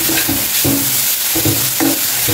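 Cabbage and Maggi noodles being stir-fried in a pan: a steady close sizzle with rhythmic scraping and tossing strokes from a spatula, loud and with no talking.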